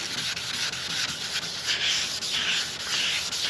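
Wet sanding of cracked boat gelcoat by hand, a continuous rhythmic scrubbing rasp with gentle back-and-forth swells, close and alone.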